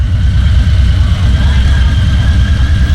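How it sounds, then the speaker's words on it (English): A club-style motorcycle rumbles loud and close at a street bike night, its low engine throb steady and unbroken across the moment. "There's another club style bike right there."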